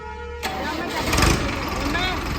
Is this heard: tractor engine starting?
yes